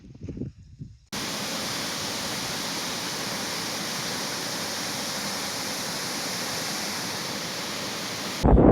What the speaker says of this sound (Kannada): ಓವರ್ಫ್ಲೋ ಆಗಿದ್ದ ನೀರು ಅಲ್ಲಿಂದ ಬರುತ್ತೆ ಹಿಂಗೆ ಬಂದು ಇಲ್ಲಿ ಚಾನಲ್ಗಳಿದ್ದಾವೆ